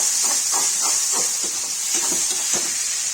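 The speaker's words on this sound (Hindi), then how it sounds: "ये टमाटर डाल देंगे, इसको भून लेंगे" Tomatoes sizzle as they fry in a pan for a Kashmiri tomato and aubergine dish, giving a steady, loud hiss with soft stirring scrapes throughout.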